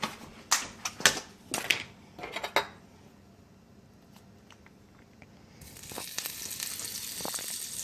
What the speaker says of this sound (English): Sizzle. That means it's ready for my onions.